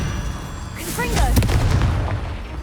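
A Confringo fire spell cast in Hogwarts Legacy gives a sudden loud burst with a crackling blast and a booming low rumble, rising quickly and fading over about a second against steady game ambience.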